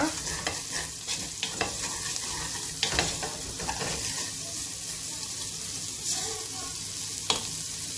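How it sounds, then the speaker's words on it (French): Rice and vermicelli stirred in a hot pan for rice pilaf, a continuous soft sizzle broken by scattered spoon clinks and scrapes, without speech. "après avoir fait revenir mon riz, je rajoute mes vermicelles. Je mélange bien."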